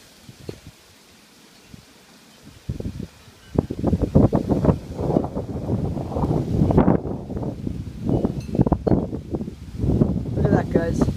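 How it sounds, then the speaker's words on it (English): A strong Santa Ana wind gust sweeping through trees, building from quiet into a loud, sustained roar with buffeting rushes against the microphone. "Here comes a gust."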